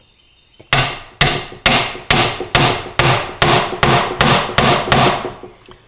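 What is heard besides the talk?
hammering dowels into oak miter joints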